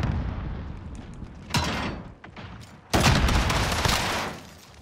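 Loud gunfire bursts in a realism-mode video game shooter, with two sharp volleys near 1.5 and 3 seconds, the second sustained and booming, over a steady noisy battle background.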